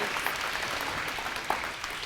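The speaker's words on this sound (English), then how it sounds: "give Kristen a big round of applause" Audience applause fills a school gym during an elementary DARE graduation at Hobgood Elementary, a steady moderately loud wash of many hands clapping with a few sharper claps standing out.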